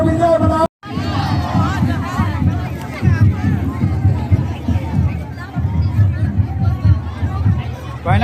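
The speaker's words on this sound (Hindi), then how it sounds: "बहुत ज़्यादा भीड़ है" A large, dense crowd at a political rally for Chief Minister Hemant Soren in Murhu roars and chatters loudly and continuously, with shouts and cheering rising throughout after a brief drop near the start.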